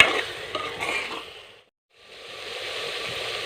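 Masala spices fry in a pot with a close, crisp sizzle and scraping stirs, briefly dropping to near silence before the sizzling resumes steadily.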